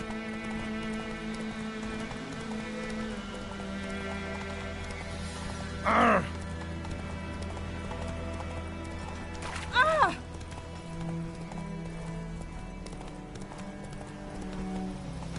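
Geralt's horse Roach clip-clopping at a steady trot in The Witcher, hooves beating evenly and close throughout, a rider's voice cutting in briefly twice over the hoofbeats.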